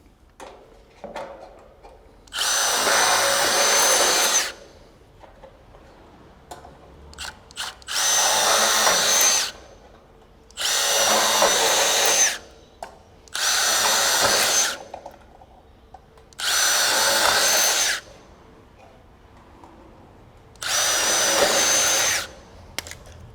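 A power drill whirs in six separate bursts of a few seconds each while installing external gutter clips, with quiet pauses between them. Nobody speaks.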